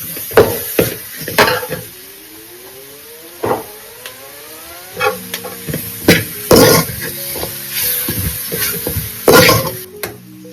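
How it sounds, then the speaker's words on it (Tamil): Noodle ingredients are stir-fried and mixed in a pan, with irregular clanks and scrapes of a utensil against metal coming in bursts, some light rattles between, and no talk. "வறுத்துட்டு அதுக்கப்புறம் எல்லாத்தையும் ஒன்றா கலந்து விட்டுக்கலாம்."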